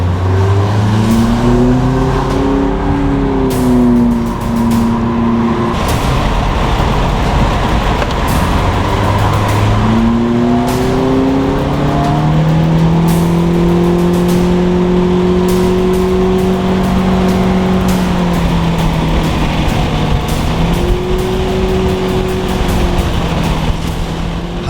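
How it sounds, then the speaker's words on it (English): Cars on the Palisades during a street race rev hard and accelerate through the gears. The engine pitch climbs and drops repeatedly as the drone stays loud and close throughout, with interior rumble underneath. "We're about to get on the Palisades and race."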